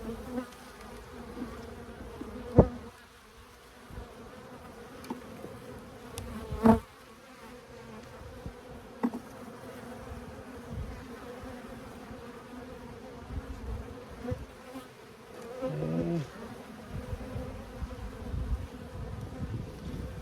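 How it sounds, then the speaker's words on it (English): Dense, continuous buzzing of many honey bees close by around an open hive, with occasional sharp taps and bumps of bees hitting a beekeeper's suit rising above the swarm's drone. "I have some bees hitting my outfit."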